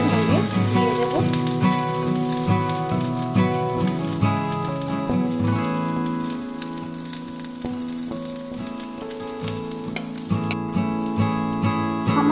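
A semolina dosa fries in white oil in a pan, a steady sizzling crackle like rain on a surface over twelve seconds, with soft background tones and no talking.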